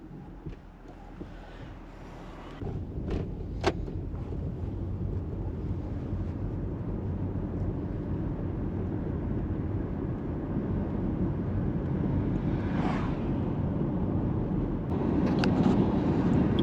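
A 3UZ V8 Toyota Crown Majesta / Lexus LS430 with a speed sensor circuit fault is driven, giving a steady low engine and road drone heard from inside the cabin that slowly builds as it picks up speed, with faint knocks and clicks along the way.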